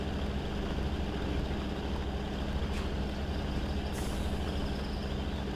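Chevy truck in the Spin Tires game grinding up a rocky hill in third gear, its engine a loud, unbroken drone with a steady low hum and a brief hiss partway through.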